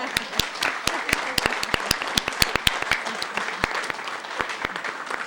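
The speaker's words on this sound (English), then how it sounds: "could you please give a round of applause to my family?" Applause from council members, staff and audience at a city council meeting, with sharp individual hand claps standing out distinctly over softer crowd clapping for about five seconds.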